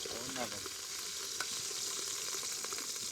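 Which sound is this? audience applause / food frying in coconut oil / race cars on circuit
food frying in coconut oil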